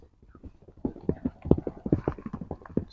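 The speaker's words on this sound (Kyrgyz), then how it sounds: "Резвый ат экен" A spirited horse's hooves clip-clop in quick, uneven beats, growing louder and closer over a few seconds with no talk.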